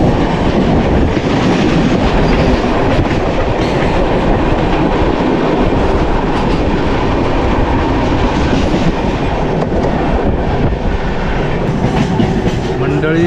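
A train rumbles loudly along the tracks, its wheels clattering in a continuous, steady roar heard from inside the carriage.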